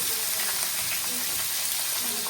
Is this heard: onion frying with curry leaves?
yes